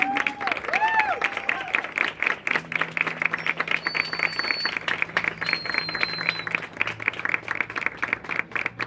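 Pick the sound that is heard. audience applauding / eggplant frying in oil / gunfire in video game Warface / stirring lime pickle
audience applauding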